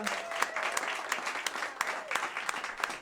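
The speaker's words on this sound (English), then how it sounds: "let's give him a big round of applause also" Audience applause at a CD release concert: dense, steady clapping from a room full of people, fairly close and sustained through the whole stretch, with no speech over it.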